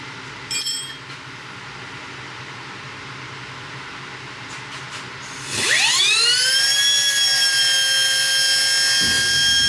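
A high-speed air spindle grinder, used for polishing Nissan L-series rocker arms, spins up with a rising whine after a quieter stretch of background hum, then holds a steady high-pitched scream close by.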